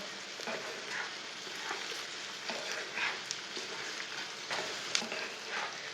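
Spices and okra sizzle steadily as they roast in a pan, with a continuous, close frying hiss and occasional light stirring scrapes, no voices.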